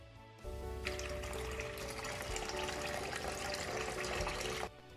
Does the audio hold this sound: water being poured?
yes